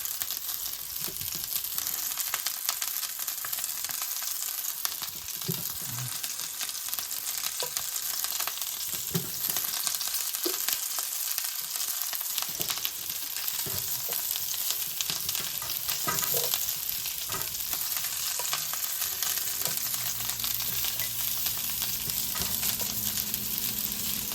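Brussels sprouts frying in hot oil in a pan at home, a loud, steady sizzle and crackle running throughout with occasional spits and pops.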